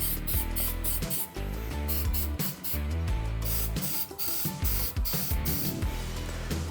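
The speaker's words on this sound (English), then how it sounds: "let's spray this and see what it does" A steady hiss of truck bedliner coating being sprayed, with musical tones running underneath throughout.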